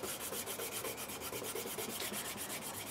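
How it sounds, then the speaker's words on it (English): Blue polishing compound rubbed onto a knife strop in fast, even back-and-forth strokes, a close, steady scratchy rasp that repeats without a break. "what you want to do is just literally rub that onto your strop"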